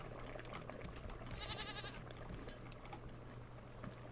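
A goat bleating in the Raft survival game, one clear wavering bleat near the middle, over a low steady game ambience of sea and wind.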